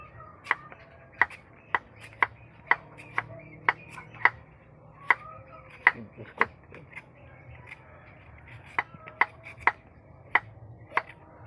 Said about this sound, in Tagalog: ito na po pala mga idol yung labong na hinihiwa natin